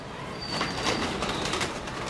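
A pigeon coos close by, a soft throaty call over a dense, steady background hiss, with no talk.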